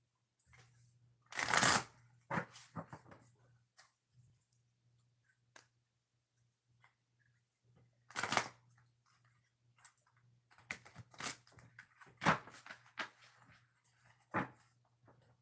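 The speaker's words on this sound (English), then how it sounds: "So I'm going to shuffle this 2 times" A deck of tarot cards is shuffled by hand in several bursts of riffling and flicking, close and fairly quiet, with longer pauses and scattered small card taps between shuffles, no voice heard.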